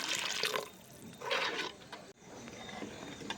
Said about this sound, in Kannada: ಇನ್ನೊಂದು ಸ್ವಲ್ಪ ನೀರು ಬೇಕಾಗುತ್ತೆ ಹಾಗಾಗಿ ನೀರು ಹಾಕ್ಕೊಳ್ತಾ ಇದ್ದೀನಿ